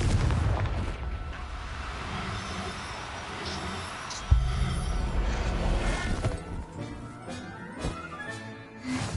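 A Confringo blasting spell goes off in Hogwarts Legacy: a dense, rumbling game soundscape with one sharp, heavy boom near the middle, followed by crackling, debris-like bursts and a lingering low roar, with no talking.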